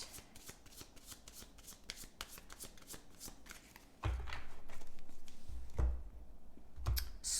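Tarot cards shuffled by hand in a steady riffling patter, close up, followed by louder card handling and a couple of sharp slaps as the deck is set down.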